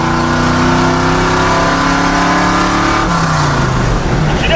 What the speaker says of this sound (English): We finally have ourselves a running and driving pickup that's got a good boat motor in it.